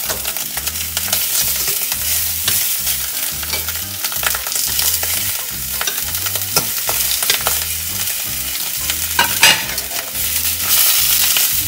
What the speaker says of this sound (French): Et on va faire colorer notre viande sur toutes les faces.